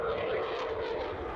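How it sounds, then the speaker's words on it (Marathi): Indian Air Force fighter jets such as the Rafale, Mirage, Sukhoi and Jaguar roar overhead on the Ganga Expressway during a landing exercise. A continuous, loud engine rush fills the moment, with a faint voice underneath. "गंगा एक्सप्रेस वेवर राफेल, मिराज, सुखोई, जगवार ही लढाऊ विमानं रोरावतायत"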